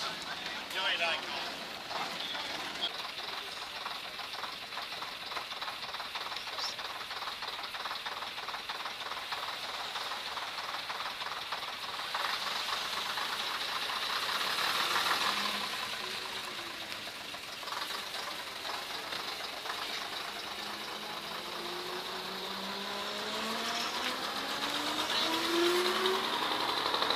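A Tait suburban passenger train rumbles past at a distance, with a steady mechanical drone, hissing and faint squeals as it moves along the track.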